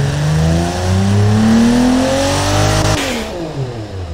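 A video-game car engine with a turbo revs steadily upward, its pitch climbing, then drops and settles into a rougher idle, loud and close with no voices.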